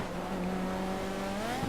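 Rally car in GTA V sliding through a dirt corner under the e-brake, a steady engine drone with a long rising tire squeal near the end, close and loud, alone.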